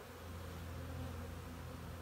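Honeybees in a hive on a brood frame give off a steady, low, dense buzz, faint and continuous throughout.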